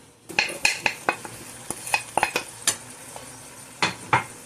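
A metal spoon stirs and scrapes spices through lamb chops and kidney in a cooking pot, producing irregular clinks and knocks against the pot with a faint sizzle underneath.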